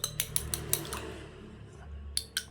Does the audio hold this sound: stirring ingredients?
yes